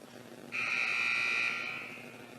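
A basketball game buzzer sounds during a girls high school game, giving a single loud, steady electronic tone that lasts about a second and then fades, with no talk over it.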